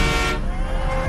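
A car horn honks at a street protest, a loud, close blaring toot at the start that cuts off quickly, leaving dense traffic and crowd rumble underneath.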